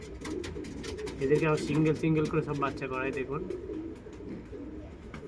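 Pigeons coo softly in a loft of breeding and fostering pairs with squabs, soft throaty calls repeating while someone talks over them.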